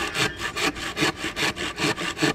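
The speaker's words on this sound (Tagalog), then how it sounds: "So lalagarin natin mga boss. Lagari lang muna." Rhythmic hand sawing through wood, about a dozen even back-and-forth strokes, close and clear with no talking.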